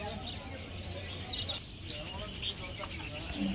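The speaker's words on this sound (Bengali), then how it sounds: "এখানে এক ঝাঁক লাভবার্ড পাখি পেয়ে যাবেন" Many lovebirds and other small birds chirp and tweet together in a busy, steady chatter at a bird market, with voices talking in the background.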